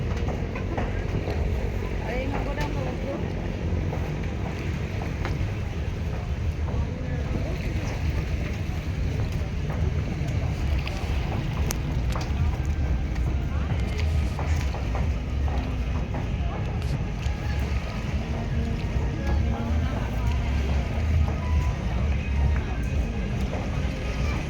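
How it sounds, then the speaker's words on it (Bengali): Steady engine drone and water rush from a boat ride out to an island temple, continuous and fairly loud throughout, with people talking over it now and then. "আর এই নৌকাটা আমরা উঠবো"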